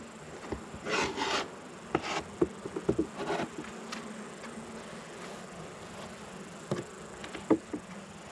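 Honey bees hum around an opened beehive while wooden frames are scraped and rubbed in several short bursts, the rasping strokes standing out over a low buzzing background.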